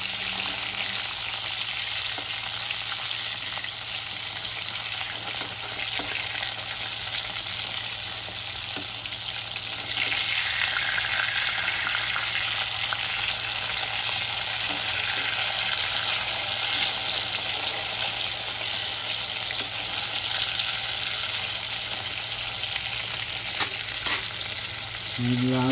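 Pieces of rohu fish frying in hot oil for a panch phoron fish curry, a steady dense sizzle running throughout with a slight swell midway and a few faint clinks of a utensil near the end.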